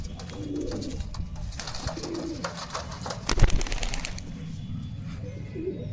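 Male and female Madras pigeons coo at close range, low repeated burbling calls over a busy background, with a brief louder flurry midway.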